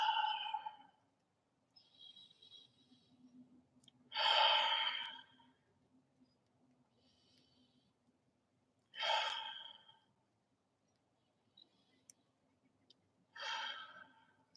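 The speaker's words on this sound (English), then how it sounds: "Nice little secret to stretching is breathing" Slow, controlled breaths drawn in through the nose and released through the mouth during a kung fu stretching routine, three or four distinct airy exhalations spaced a few seconds apart over a faint low hum, with no talking.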